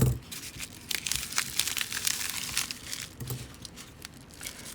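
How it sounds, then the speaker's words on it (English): Scissors cut open plastic packaging around Magic: The Gathering cards, giving close, steady crinkling and tearing noises with a few sharper snips over about five seconds, no one speaking. "that's not gonna get open from that side, so we're gonna have to resort to the scissors"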